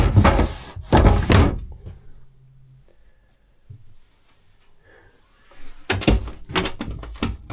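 Sliding shift door into the head on a Monk 36 boat, two loud close thuds and rattles of the door moving, then a quiet stretch with faint knocks, then more clunks and sliding impacts near the end.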